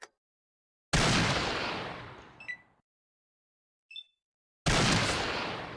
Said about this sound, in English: Don't underestimate the range on your hunting rifle.